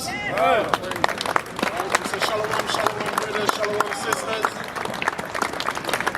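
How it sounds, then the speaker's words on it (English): Audience clapping for a performer at a live event, scattered crowd applause and cheering running under someone speaking loudly over it, with sharp claps throughout. "Give the brother a round of applause"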